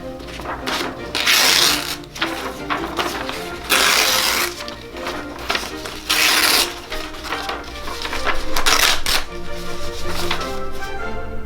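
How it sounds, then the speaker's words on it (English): Sheets of paper torn repeatedly in short ripping bursts, each lasting about a second, recurring every couple of seconds, close and fairly loud, with faint rustling between them. "The paper was then torn in half for each person to keep."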